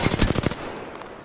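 Rapid automatic gunfire from R301, Spitfire and R99 weapons in Apex Legends, a tight burst of about six close, loud shots followed by a short fading tail.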